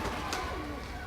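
Pigeons at a bird park in the Philippines give soft low coos close by, a brief murmuring call over outdoor background noise.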